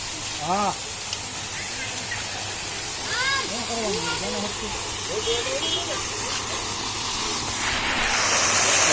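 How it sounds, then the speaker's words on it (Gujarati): A water fountain sprays continuously in a steady hiss that grows louder toward the end, with voices talking and calling over it. "ફુવારો એટલે એકદમ ફુવારો"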